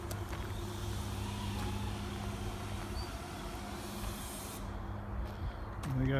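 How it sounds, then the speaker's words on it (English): Steady broadband hiss of spray painting on old cars, nearby and continuous under low engine-like hum, with a brief rising tone near the end. "They got a paint operation going over there."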